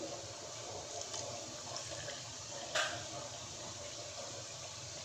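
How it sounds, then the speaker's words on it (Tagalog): Water poured into a container of milk powder while making a strawberry shake, a steady soft splashing trickle running evenly throughout with a brief brighter splash midway. "Then, lagyan natin ng tubig."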